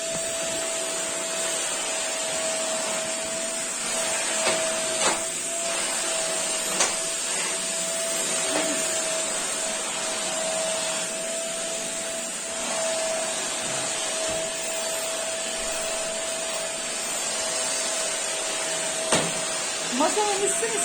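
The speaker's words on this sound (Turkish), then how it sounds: "Küçük süpürgeniz var artık size." A small handheld vacuum cleaner runs steadily throughout with a constant whine, used indoors near a table, with a few light knocks and bumps and a voice speaking briefly over it.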